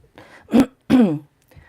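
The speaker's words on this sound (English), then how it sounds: "I had to do that to clear my throat." A person clears their throat with two forceful, close rasping bursts, followed by a faint breath.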